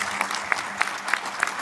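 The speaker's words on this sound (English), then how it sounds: "Let's welcome them this morning with applause" A church congregation applauds new members during a morning service. A diffuse bed of clapping runs under a few sharper, evenly spaced claps near the microphone, brief and unbroken by talk.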